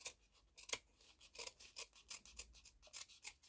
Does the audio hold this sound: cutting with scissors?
yes